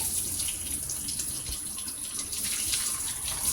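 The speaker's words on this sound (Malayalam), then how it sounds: "ഇനി നമുക്ക് പനീർ ഒരു അരിപ്പയിലേക്ക് ഒഴിക്കാം." Boiled paneer and hot water poured from a pan into a strainer, producing a steady, close rushing splash of water for a few seconds with no talking.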